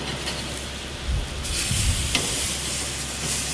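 Asian-style pork loin sizzles in a hot pan as a spatula turns the pieces, a steady frying hiss close up with a brief scrape and a burst of louder crackling midway.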